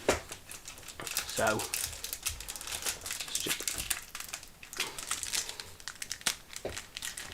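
Crinkly plastic wrapper of a trading card packet being handled and torn open close up, with intermittent crackles and rustles while a person talks over it.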